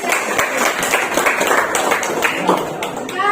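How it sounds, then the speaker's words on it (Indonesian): A class or school gathering applauds a student basketball player with a loud burst of dense clapping and audible voices mixed in. "tepuk tangan untuk Tasya."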